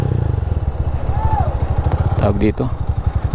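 A motorcycle engine runs during a carburetor jet tuning test, with main jet, needle jet, power jet and needle clip settings being adjusted. It chugs steadily and rhythmically up close, underneath someone talking.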